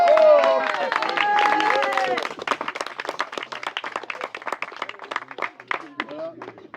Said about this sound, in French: Je disais un applaudissement un peu plus fort pour les musiciens.